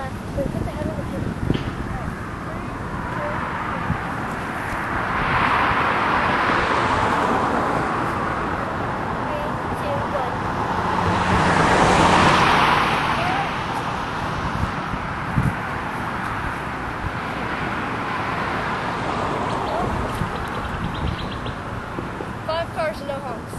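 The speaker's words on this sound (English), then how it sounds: "Another car." Cars pass along a roadway outdoors, two broad swells of engine and tire noise rising and fading, the second louder and closer, with birds chirping faintly and people talking throughout.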